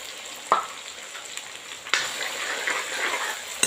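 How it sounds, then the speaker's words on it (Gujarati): Vegetables and peas roast in a pan for pav bhaji, giving a steady close sizzle broken by a couple of sharp stirring scrapes and a louder burst of frying. "આપણે જોઈ શકો છો બહુ સરસ મજાના શાકભાજી શેકાય છે"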